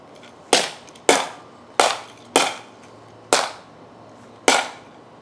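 A Norman mace strikes a target six times at close range, each a sharp, loud impact with a brief decaying ring, spaced about half a second to a second apart.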